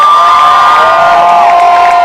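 A large outdoor crowd at an anti-hate rally cheers and whoops continuously, loud and sustained with shouting voices blending into a steady roar.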